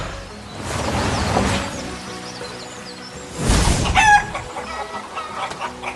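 Chickens clucking and a rooster crowing close by in a barnyard, two loud bursts of calls with softer clucks and chatter in between.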